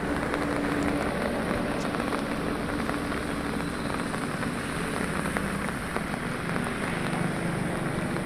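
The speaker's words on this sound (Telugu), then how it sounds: "తూర్పుగోదావరి జిల్లా వ్యాప్తంగా వర్షాలు కురుస్తున్నాయి." Steady rain falling across East Godavari district during flooding, a continuous dense patter and hiss heard loud and close for several seconds.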